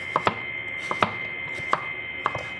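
Papaya being chopped with a knife on a board, with five or six sharp, close knocks in uneven pairs over a steady faint background hum.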